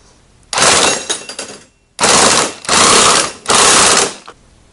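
Power tool running in three loud bursts with a sharp rattling, ratcheting edge, likely an impact gun tightening a nut on a Reveno scooter clutch, each burst about a second long and close up.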